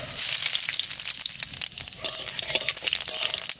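Cumin seeds frying in hot mustard oil, a dense continuous sizzle and crackle close up, steady throughout with light stirring scrapes.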